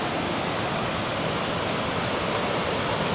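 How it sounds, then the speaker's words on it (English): A mountain river roars through a narrow gorge on a Zanskar and Ladakh trek, a loud, constant broadband rush without breaks. "There's a bit of a gorge here that the river goes through."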